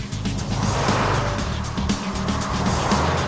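A Porsche Carrera 4 with a 240-horsepower 3.6-liter engine and four-wheel drive drives at speed, its steady engine drone and road noise loud and continuous with a hint of tire noise.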